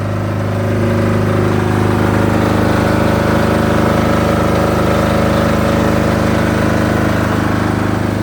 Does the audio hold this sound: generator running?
yes